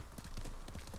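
A horse in the video game Ghost of Tsushima clip-clops along in quick rhythmic hoofbeats, a short fairly faint burst of steady trotting.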